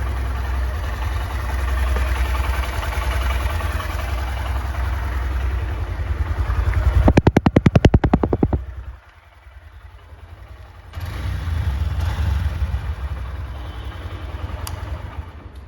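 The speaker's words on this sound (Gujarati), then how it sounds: "આનો જે અવાજ છે એન્જિનનો એ થોડો વધારે લાગશે" A Honda SP125 Phase 2 motorcycle idles with a steady, close mid-pitched hum, followed by a short burst of rapid ticking pulses, a brief drop to near quiet, then the engine idling again.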